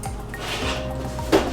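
An oven door swings open on a tray of baked buffalo broccoli bites, ending in a single sharp metallic clunk against a quiet kitchen background.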